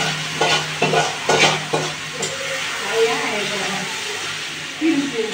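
Taro leaf greens fry in hot oil in a pan, sizzling steadily while a utensil stirs and scrapes in quick bursts near the start, then the sizzle settles on its own.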